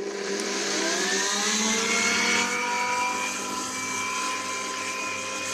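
An electric air blower blowing dust out of a CPU cabinet roars loudly and steadily, its whine rising and sliding in pitch as the airflow shifts, with no voices heard.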